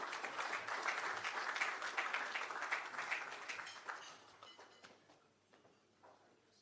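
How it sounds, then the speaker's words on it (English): An audience at a regional private sector leadership breakfast claps for the event's sponsors, the applause full at first, then thinning into scattered claps as it fades out. "Give them a round of applause, please."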